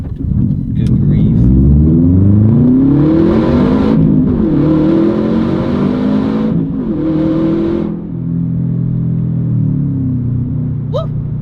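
A Subaru WRX STi engine revs hard while driving, rising and falling through gears in a loud, close rumble inside the car, with brief shifts between pulls.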